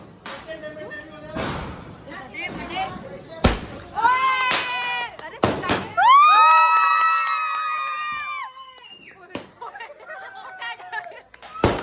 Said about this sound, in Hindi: अभी स्काई शॉट चला रहा है